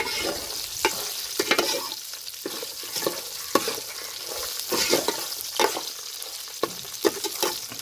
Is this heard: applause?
no